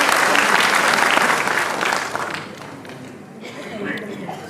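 An audience at a hospital Cancer Survivors Day event applauds loudly to welcome a speaker, a dense, sustained wash of clapping from many hands that slowly tapers off, with talk over it.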